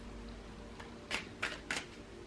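Tarot cards are shuffled close by in a quiet room, three quick soft riffling bursts in a row against faint background hum.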